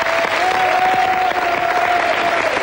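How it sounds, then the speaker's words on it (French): Dense studio audience applause on a French TV variety show with guests Garou and Nicoletta, loud and steady throughout with no talking over it. "Je crois que vous pouvez applaudir Nicoletta."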